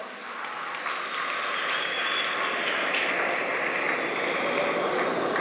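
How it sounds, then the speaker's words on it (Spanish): Sustained audience applause after a talk by a doctor, a thick, even wash of clapping that holds steady at moderate loudness for the whole stretch. "Si le prestamos un aplauso, por favor, a la doctora."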